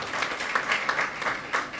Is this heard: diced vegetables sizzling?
no